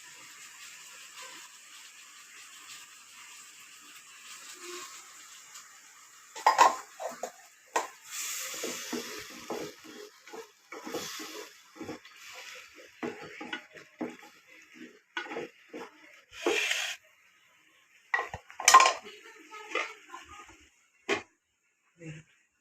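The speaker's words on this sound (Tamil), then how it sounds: "இப்போ இன்னொரு வாட்டி கழுவி ஊற்றுறாங்க." Tapioca (cassava) pieces are washed in a metal pot, with the water then poured off, giving a series of clattering knocks, scrapes and sloshes in irregular bursts. The sounds are close and moderately loud, with quiet pauses between them.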